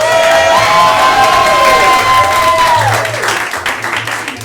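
Audience at a live improv comedy show bursts into loud applause and cheering, a dense wash of clapping with whoops and a few sustained shouts, fading slightly toward the end.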